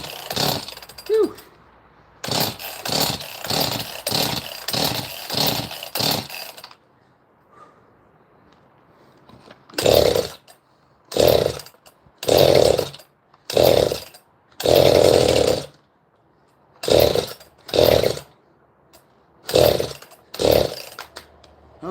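Chainsaw from a lot of used saws, running with rapid rhythmic revving bursts, then after a pause a series of loud throttle blips separated by short idle gaps, close and dominant.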